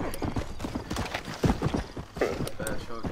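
Horse hooves clip-clop in quick uneven steps in the Red Dead Redemption video game, with a whinny mixed in and people talking over the top.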